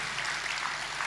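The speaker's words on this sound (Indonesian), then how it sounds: "beri tepuk tangan dulu lah" Church congregation applause during a sermon, heard as a faint, steady wash of clapping that runs through the whole short moment.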